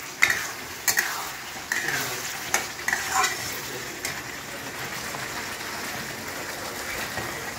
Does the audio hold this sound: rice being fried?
yes